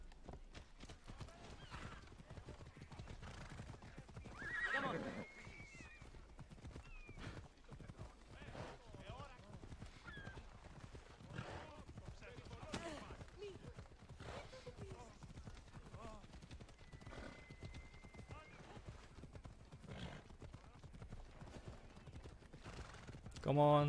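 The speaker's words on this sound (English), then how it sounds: "Now we have horses." Horses in Assassin's Creed Odyssey gallop with steady clip-clop hoofbeats and let out a few whinnies, with game sounds and someone talking over them throughout.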